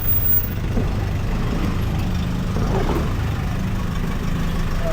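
Heard from inside a vehicle in traffic, surrounding engines keep up a steady, low rumble that holds without a break.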